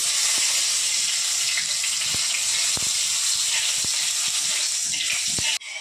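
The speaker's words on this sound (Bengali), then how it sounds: "প্রথমে আমি 4-5টা শুকনো লঙ্কা লাল করে ভেজে নেব।" Dry red chillies crackle in hot oil, a loud, dense, continuous hiss with scattered pops that cuts out abruptly at the very end.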